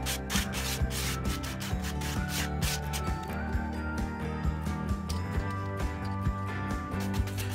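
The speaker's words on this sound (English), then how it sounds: "give it a dust off with a brush" A soft bristle brush dusts off a sanded diorama landform model in close, rhythmic brushing strokes that rasp steadily throughout, with no speech.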